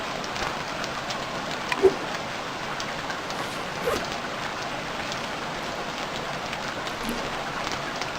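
Steady rain falling in the survival video game Stranded Deep, a dense even hiss of drops with a couple of louder patters, heard alone without talk.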